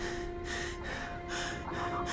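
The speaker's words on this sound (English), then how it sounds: "Nod sniffs, looking to the ground." A young character named Nod sniffs repeatedly in a dramatized scene, giving several short, breathy nasal inhales in an uneven rhythm, close and fairly quiet over a steady faint background hum.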